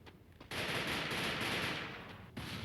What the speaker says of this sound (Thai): ต้องคอยยิงเลยใช้กระสุนตลอดเวลา